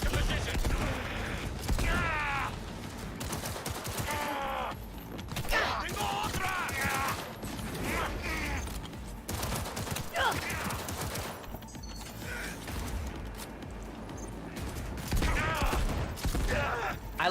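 Shotgun fire and combat in the video game Cyberpunk 2077, bursts of gunshots and impacts mixed with game sound effects and voices, loud and busy throughout.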